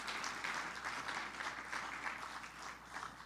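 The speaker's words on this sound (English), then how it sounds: "Let's give him another round of applause." A conference audience applauds steadily, a dense patter of clapping that stays even throughout, heard at a moderate distance.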